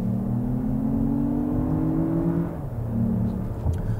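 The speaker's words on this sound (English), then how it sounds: "You barely hear the engine, but when you do hear it, it sounds like what it is," A Lexus RX 500h four-cylinder engine accelerates as a smooth, subdued drone heard from inside the cabin, its pitch rising steadily before dipping briefly and climbing again.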